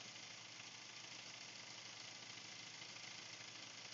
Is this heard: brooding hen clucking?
no